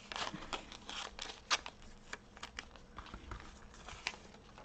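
Scissors rough-cut paper images for junk journal tags, giving a series of soft, close snips and paper rustles at an uneven pace, fairly quiet throughout.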